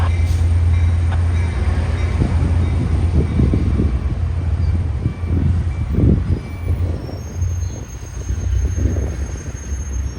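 Trinity Railway Express commuter train 2915 pulls away toward downtown Fort Worth, a loud close rumble of diesel engine and rolling wheels with repeated rhythmic clunks over the rail joints.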